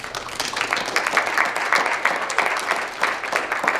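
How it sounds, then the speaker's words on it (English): Dense, steady clapping fills the room as high school jazz band students applaud themselves after playing, a continuous close rattle of many hands with no talk. "give yourselves a round of applause for that"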